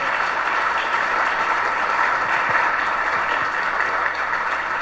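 A crowd at a school competition between two teams in Haiti applauds warmly and steadily, a dense, even wash of clapping close by that holds throughout with no voices over it.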